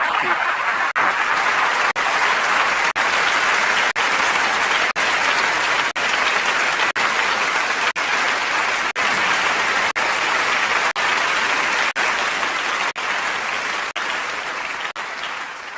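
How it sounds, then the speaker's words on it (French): Sustained, steady applause from a large theatre audience at a comedy show, loud and dense throughout with no voices breaking through. "je voudrais que vous les applaudissiez très fort"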